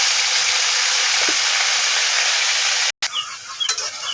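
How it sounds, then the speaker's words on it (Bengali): Onion, ginger and garlic paste dropped into hot oil on a tawa, giving a loud, steady hiss and sizzle close up, followed by a brief dropout and then quieter crackling with a few clinks. "এখানে তাওয়ার মধ্যে তেল গরম দিছি এবার এখানে দিয়ে দিব পেঁয়াজ আদা রসুন বাটা"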